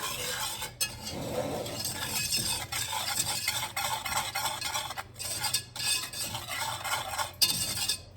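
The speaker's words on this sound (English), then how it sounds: "I'm gonna get my whisk, and we're just gonna whisk that all together" A whisk beating pie filling in a bowl for a Thanksgiving dinner, a brisk continuous swishing and rattling against the bowl with brief pauses, up close and without talk.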